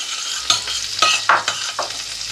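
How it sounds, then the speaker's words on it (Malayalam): Finely chopped garlic fries in butter in a pan over low heat, a bright continuous sizzle with a few louder stirring scrapes. "ഇതിനകത്തേക്ക് നമ്മുടെ വെളുത്തുള്ളി ഒരല്ലി ചെറുതായിട്ട് അരിഞ്ഞത്"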